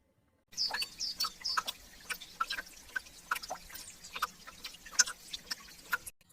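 Thawing snow and ice drip water at an irregular pace, soft plinks landing over a quiet trickling background.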